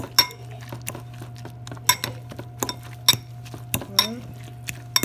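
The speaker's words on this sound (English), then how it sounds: "And we're going to stir it up." A spoon clinks repeatedly against a bowl while stirring a cheese and sour cream filling for spinach-stuffed chicken. The sharp, close taps come in an uneven rhythm over a low, steady background hum.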